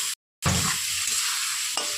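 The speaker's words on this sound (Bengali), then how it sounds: "এবার আমি ভালো মশলাটাকে কষিয়ে সামান্য একটু জল আমি কষানোর জন্য" Spice paste with a little added water sautéing in a pan for jackfruit kofta curry, a steady close sizzle and stirring scrape following a brief silent gap, with a small clink near the end.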